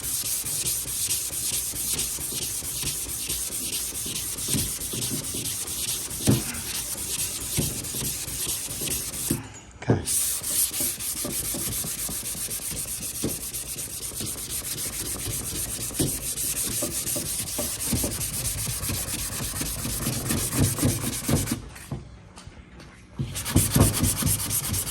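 Car bodywork being sanded with a sanding block, a steady loud rasping scrub in rapid back-and-forth strokes, close up, with two brief pauses and no talk.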